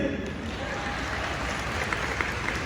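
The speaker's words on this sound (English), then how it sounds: "Applause if you think it was Creed." Audience applause at a Rainn Wilson fan expo panel in Dallas, a steady dense wash of clapping from a large crowd filling the room, even in level with a few sharper claps poking through.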